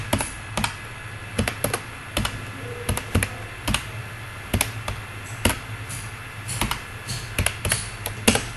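Keys clicking on a computer keyboard while data is typed into an MS Excel spreadsheet, quick irregular bursts of taps close up over a low steady hum.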